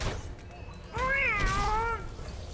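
A cat in a video game gives one clear, drawn-out meow lasting about a second, rising then falling, close and distinct over a low background murmur.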